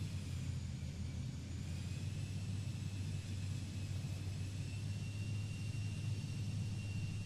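An airplane taxis in Microsoft Flight Simulator played in VR: a steady, loud, low engine rumble with a thin constant whine above it, running unbroken throughout.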